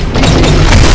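Heavy booming gunfire from the Titanfall campaign, a dense low rumble of blasts filling a single second, loud and continuous.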